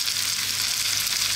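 Garlic ginger paste sizzles and fries steadily in a hot pan for a curry of potato and eggplant, a dense continuous hiss with no voices.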